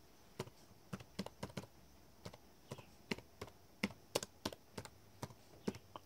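Keystrokes on a computer keyboard as a file name is typed, about two dozen crisp taps in quick irregular bursts, close and clear with no talking.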